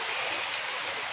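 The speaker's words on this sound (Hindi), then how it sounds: "बहुत जोर की बारिश आ गई।" Heavy rain pouring steadily outdoors during an Indian Janmashtami festival gathering, a dense continuous hiss with no break, moderately loud and close, with no talk over it.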